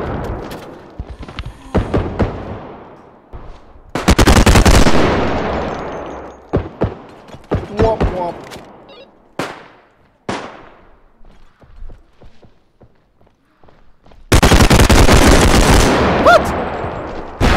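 Gunfire in a realistic bodycam first-person shooter, loud close bursts of rapid automatic fire with scattered single shots in between, and a brief voice speaking once.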